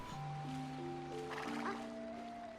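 A horse whinnies in the video game The Legend of Zelda: Twilight Princess, a clear tonal neigh that rises and wavers for about two seconds over quiet ambient game sound.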